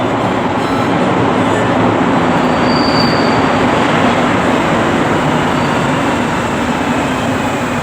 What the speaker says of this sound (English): The train is here, it's coming